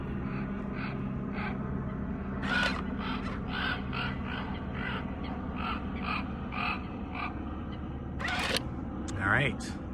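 A Haunted Mansion raven Halloween decoration lets out cawing calls in a series of bursts over a steady background hum, with a voice speaking at times.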